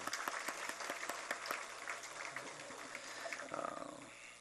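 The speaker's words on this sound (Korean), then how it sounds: "그들한테도 한번 박수 한번 주시죠" Applause from a church congregation at a Sunday worship service, a dense patter of clapping with a few sharp claps standing out, fairly distant and steady before easing off.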